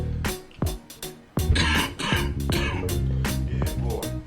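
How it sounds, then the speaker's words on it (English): Someone coughs and clears their throat several times in rough, close bursts, mixed with bits of talk. "You be coughing?"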